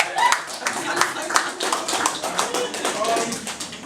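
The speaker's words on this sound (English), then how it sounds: "That deserves a round of applause." An audience at a panel discussion on sexuality, gender and religion gives a round of applause: fairly close, rhythmic clapping from a modest crowd, steady and moderately loud throughout.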